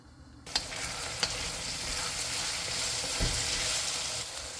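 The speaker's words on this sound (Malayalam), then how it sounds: "ഈ ഉരുളക്കിഴങ്ങ് ഈ എണ്ണയ്ക്കകത്ത് കിടന്ന് നന്നാക്കുന്ന റോസ്റ്റാണ് നല്ല ടേസ്റ്റ് ആവുള്ളൂ" Steady, dense sizzling of potatoes roasting in hot oil, continuous throughout, with a couple of brief clinks near the start.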